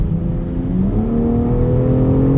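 A 2020 BMW X4M Competition accelerating hard from inside the cabin, its engine note rising steadily in pitch through a gear change, loud and continuous with a whirring turbo spool layered over the drone.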